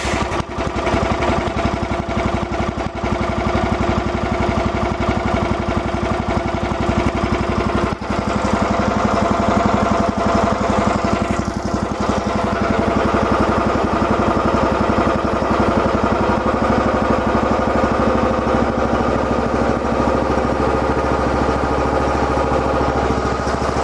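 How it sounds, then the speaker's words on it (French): A mini excavator's small engine idles steadily after a cold start, warming up in a continuous, loud, even rumble with no voices over it. "Je laisse un tout petit peu le moteur chauffer"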